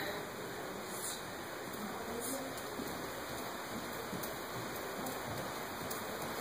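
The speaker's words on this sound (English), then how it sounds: "Sounds like sleet outside." Sleet falls outside as a steady, even hiss that stays faint and continuous throughout.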